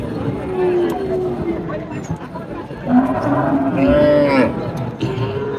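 Cows moo nearby amid a busy crowd at a cattle market, with people talking loudly throughout.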